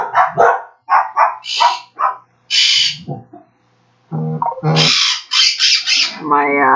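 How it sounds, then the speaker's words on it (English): A dog barks and a household bird squawks, with a loud, close mix of repeated harsh squawks and barks in quick bursts that overlap and alternate. "So now I've got a barking dog along with a squawking bird."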